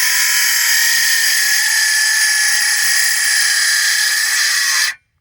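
A small cordless drill on an uncharged battery whines at a high, steady pitch for about five seconds while cutting patio concrete forms, then cuts off abruptly into silence.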